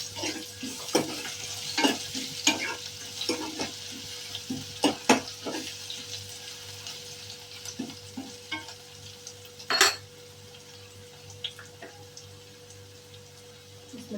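Crushed garlic and ginger hitting onions already browned in a pan, frying with a steady sizzle while a spoon stirs and scrapes in irregular clicks and clatters, plus one louder knock near the end.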